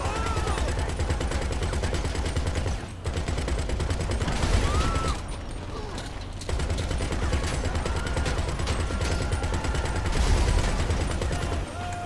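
Sustained gunfire in the online game GTA 5 Online during a street shootout with jeeps, a dense continuous barrage of rapid shots broken by a brief pause around three seconds, with no talk.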